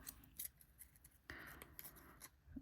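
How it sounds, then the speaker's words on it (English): Scissors make a few quick snips, trimming paper on a letter craft, crisp and close in a quiet room with no talk. "I think I might need to tidy that up with the scissors"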